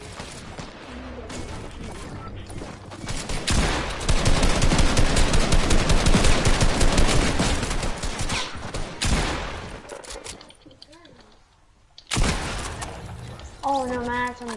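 Rapid gunfire from a pump shotgun and a drum gun in Fortnite rattles in dense, loud bursts, with sustained automatic fire in the middle, brief pauses, then renewed shots, while players talk over it.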